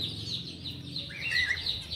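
Cage birds in a breeding aviary with canaries, zebra finches, budgerigars and cockatiels chirp in quick overlapping high tweets over a low background murmur.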